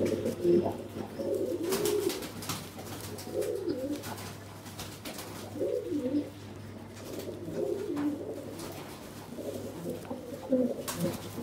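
Pigeons in a pigeon loft give repeated low, throaty coos in short bursts over a quiet hum, fairly close and moderately loud.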